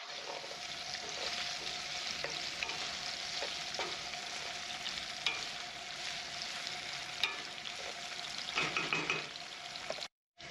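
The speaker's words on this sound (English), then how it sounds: "Onions do not need to be fried much" Onions fry in a pot with a steady bright sizzle while a utensil scrapes and stirs now and then, close and continuous until a brief cut near the end.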